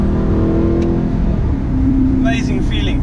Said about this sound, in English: And the gear changes, you can actually feel it snapping into gears.